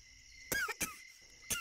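Three short coughs, two close together and a third after a pause, sharp and nearby against a quiet background.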